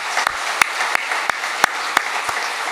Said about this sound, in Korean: 서로 격려한 박수 하겠습니다